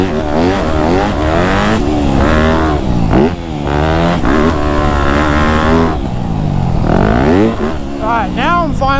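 A Yamaha YZ250F dirt bike engine revs up and down close by while riding a motocross track, its pitch rising and falling as the throttle opens and closes, with a voice talking over it.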